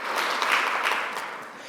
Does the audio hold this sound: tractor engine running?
no